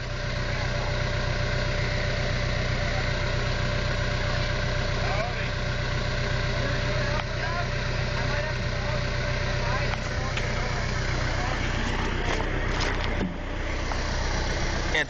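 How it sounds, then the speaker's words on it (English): A big tractor engine at a tractor pull idles steadily and close by, a continuous low rumble with a brief dip near the end, with people talking at points. "It's a big tractor."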